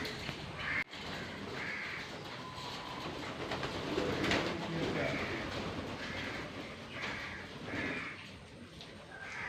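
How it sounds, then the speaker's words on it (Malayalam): Many pigeons coo together in a rhythmic, repeated throaty warble over a steady rumbling background, close and clear for the whole stretch. "എത്രയാ പ്രാവ് നോക്ക്."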